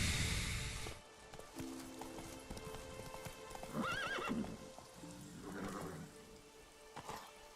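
Roach, the horse in The Witcher 3, clops along as it is ridden. Scattered hoofbeats are joined by two loud whinnies midway, over soft rain.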